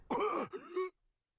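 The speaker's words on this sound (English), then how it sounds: "Why is he coughing?" A single rough, throaty cough-like vocalization from a character in the video game Danganronpa V3, with a groaning tail, loud and close, followed by silence.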